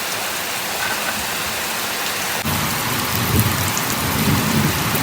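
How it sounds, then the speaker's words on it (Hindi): Heavy rain pours down steadily and loudly on surfaces outdoors, a dense unbroken hiss with low rumbling underneath, no voices. "बहुत ज़्यादा बारिश हो रही है"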